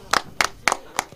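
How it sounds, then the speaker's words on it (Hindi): Claps ring out at a cricket league prize presentation in Badlapur, four sharp evenly spaced hits close by, brief and unaccompanied. "जोरदार तालियां"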